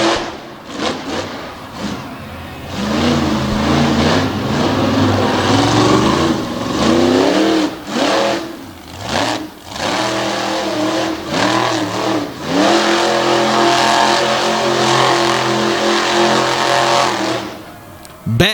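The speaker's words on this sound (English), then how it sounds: "Beck rocking and rolling by twilight would lay down a run good enough for a 14 to take the lead in Renegade Monster Truck Tour Freestyle" A monster truck engine roars and revs hard through a freestyle run at a Renegade Monster Truck Tour event, loud and continuous with rising and falling throttle surges and brief drops.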